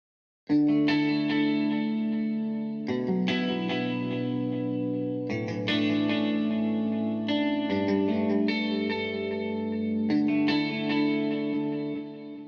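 Electric guitar chords ring out one after another, each sustained and shimmering with onboard chorus, light distortion and echo effects, played alone.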